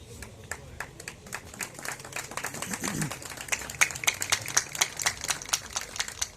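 Applause from the audience at an Abbasia Youth League oath-taking ceremony in Bahawalnagar: steady, fairly quick claps from a smallish crowd, moderately loud, with a brief murmur of voices partway through.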